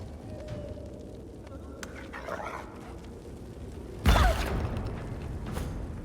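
A dog barks in the video game Divine Scaling 2: one loud, sharp bark, then fading whimpers over a quiet, creaky game ambience.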